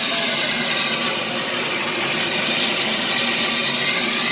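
Steam locomotive 3415 giving off a loud, steady roaring hiss of steam up close, unbroken for the whole stretch with no talking.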